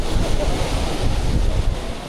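Strong wind and crashing surf on a beach at Playa 38 in Playa del Carmen during high water make a loud, continuous roar with heavy wind buffeting the microphone and no speech.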